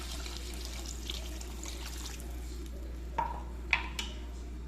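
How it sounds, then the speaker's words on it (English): Water poured into a pan of calabacitas con queso, a soft continuous trickle and splash under a low steady hum, with a couple of brief louder clinks near the end. "we are going to add a little bit of water."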